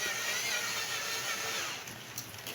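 A steady high-pitched electric drill whirs continuously at close range while cleaning an electric fan, holding an even tone before easing slightly near the end.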